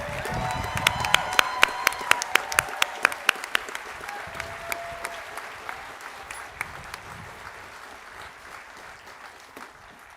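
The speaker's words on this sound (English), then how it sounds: "Let's have another round of applause for the graduates of the Graduate Institute." Graduates at a college spring commencement in Santa Fe receive a round of applause, sharp clapping with scattered cheers and crowd voices, loud at first and gradually thinning and fading across the clip.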